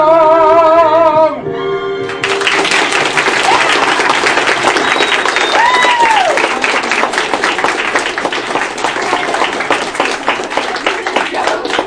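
Loud, dense applause from a large audience, steady clapping and some cheering that swells in after a brief musical ending and continues throughout.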